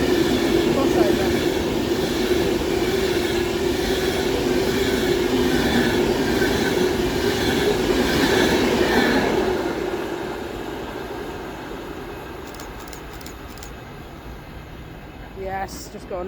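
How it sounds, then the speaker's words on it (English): A Pendolino train runs through Stafford station on the West Coast Main Line. Its loud, steady rumble and rush hold for about nine seconds, then fade as it moves away. "It's another Pendolino."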